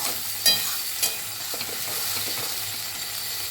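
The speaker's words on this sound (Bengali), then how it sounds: "এখন আমি এটাকে সুন্দর করে মশলাটাকে সাতলাবো" Spice paste sautés in a pan with a steady, close sizzle, and a couple of sharp stirring scrapes stand out near the start.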